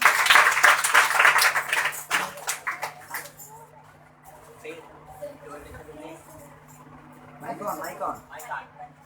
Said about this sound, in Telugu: అందరూ శర్మిలని కూడా చప్పట్లు పెట్టి ఆహ్వానించారు